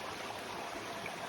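A small creek trickling over rocks outdoors in nature, a faint, steady wash of running water with no voices.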